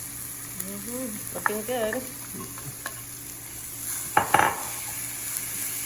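Carrots hit a hot frying pan for Spanish rice and sizzle steadily, with a short clatter of utensils against the pan partway through and a brief spoken remark over the frying.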